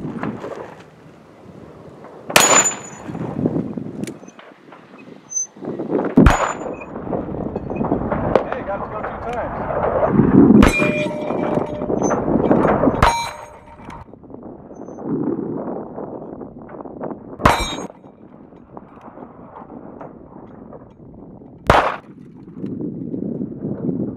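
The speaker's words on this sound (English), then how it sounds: "I wanted to shoot at the gong with a couple of other loadings" Sharp reports from a .357 Maximum Ruger Blackhawk revolver sound outdoors, about six loud, widely spaced shots, each followed by the clang of bullets striking a steel gong spinner downrange, with wind noise and murmuring voices between.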